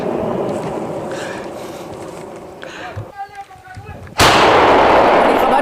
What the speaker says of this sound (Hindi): यूक्रेनी टैंक को धमाका कर उड़ाया